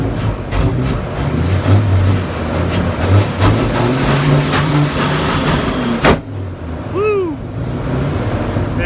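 Dodge Ram V10 truck engine running roughly on nasty fuel with poor throttle response, rumbling unevenly up close before cutting off near the end, with a voice calling out.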